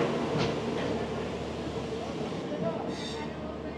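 Kanchankanya Express train running between Sealdah and Siliguri near Dakshineswar station, a steady broadband rumble of wheels and carriage noise from inside the coach, with a brief higher hiss near the end and faint talk underneath.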